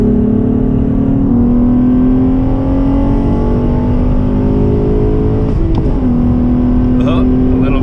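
Acura TL AWD with a six-speed manual pulling hard at full throttle, its engine note climbing steadily and loud up close, with a brief dip around a gear shift before rising again.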